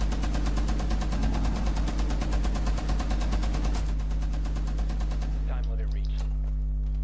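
Rapid automatic gunfire from the Rainbow Six video game rattles loudly and continuously for several seconds, then cuts off, leaving a steady hum with faint voices in the background.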